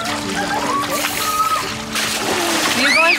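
Splashing water in a pool as a child plays near a slide and beach, loud and close, with children's voices and an adult talking over it.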